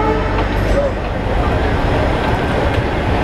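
Aboard the Nandigram Express as it pulls out of Purna Junction in the evening, a close, continuous rumble of the moving train fills the whole stretch at a steady level.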